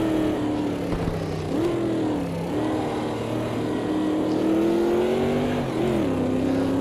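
Race car engine in Automobilista 2, a 300 AMG, revving steadily with a slipping clutch, pitch rising and dipping in continuous near drone with no talk.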